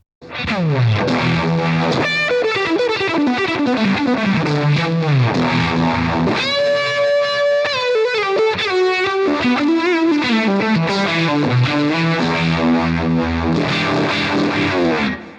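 Electric guitar through a Fjord Fuzz Embla fuzz pedal feeding a Frei Uni-Vibe, Hendrix-style tone: a saturated, swirling lead with bending melodic runs and sustained notes, loud and continuous, played alone.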